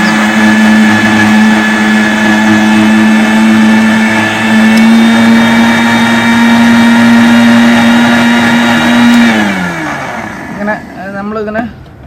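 A mixer grinder powders eggshells with a loud, steady whine that holds for about nine seconds, then the motor winds down with a falling pitch and rattles to a stop.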